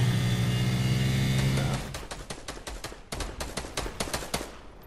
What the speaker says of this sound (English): I'll shoot at him